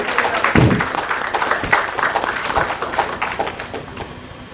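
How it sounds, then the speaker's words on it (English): Audience at a health care and pharma summit in India gives a round of applause during a memento presentation, a moderate wash of clapping with a few sharper claps, steady throughout. "Can we have a round of applause?"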